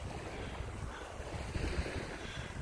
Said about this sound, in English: It's sort of warm and windy.